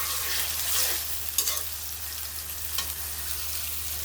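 Prawns and onion sizzle in a frying pan, a loud continuous crackle with a couple of scraping stirs of the spatula cutting through, up close and without speech.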